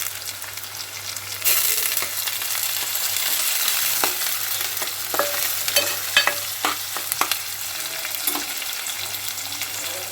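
Onion, green chili and curry leaves fry for a flat bean tomato curry as a spoon stirs the pan, a steady sizzle broken by irregular scraping clicks, close and without talk.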